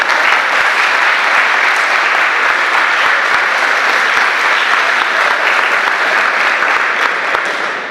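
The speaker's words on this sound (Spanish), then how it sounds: "Un fuerte aplauso para ellos." Loud, dense audience applause for two singers of the national anthem at a formal civic ceremony in Rufino, a sustained close roar of many hands clapping for nearly eight seconds that eases slightly at the very end.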